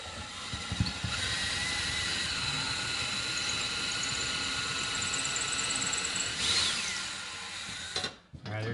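A power drill whines steadily and loudly for several seconds close by, drilling into a drywall wall, with a brief shift in pitch near the end before stopping.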